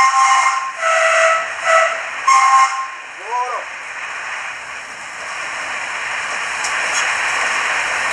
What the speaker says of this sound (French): parce qu'ici, c'est obligatoire de klaxonner